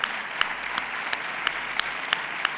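Steady audience applause fills a hall at a San Sebastián de los Reyes sports awards gala, a dense even patter of many hands with a few sharper claps popping out at regular intervals, heard alone.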